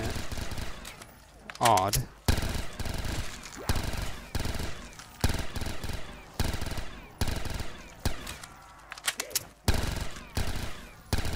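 A machine pistol fires in Call of Duty Black Ops 3 in rapid bursts, with loud rattling volleys repeating across the stretch and a voice briefly speaking between them.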